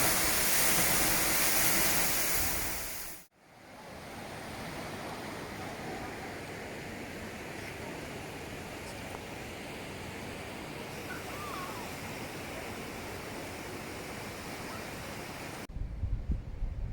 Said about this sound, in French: Et la cascade.